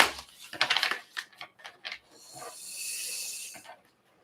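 A deck of cards being shuffled, with several quick riffled bursts up front and then a longer sustained rippling whoosh of cards bridging together, close and fairly soft, no talking.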